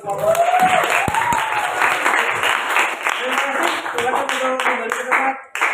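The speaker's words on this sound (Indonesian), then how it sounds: "tepuk tangan" Students in a classroom teaching-practice lesson clap together in a brisk, continuous round, loud and close, with voices calling out over the clapping before it stops abruptly.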